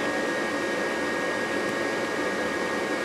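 A Rheem gas furnace's inducer motor runs its pre-purge, giving a steady, even whoosh of airflow with a faint tonal whine throughout and no talk.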